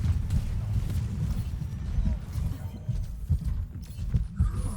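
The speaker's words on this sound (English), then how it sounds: "You can hear the footsteps on your left." Reaper's footsteps in Overwatch on the Esperanca map, off to the left on a flank route, a steady patter of low, dull steps running throughout amid game ambience.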